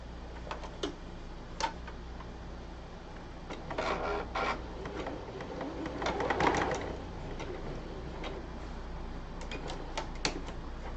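A sewing machine runs fabric along a guide while stitching a qipao wedding dress, with bursts of quick ticking stitches, pauses and soft handling noises, close and fairly quiet.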